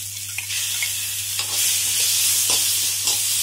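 Onions with ginger-garlic paste frying in a pan for rajma pulao, a steady close sizzle with occasional stirring scrapes and a low constant hum beneath.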